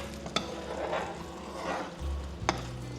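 Green tomatoes being stirred in a frying pan with the heat cut off, a soft continuous sizzle with scraping utensil strokes and a couple of sharp clicks against the pan, close and steady.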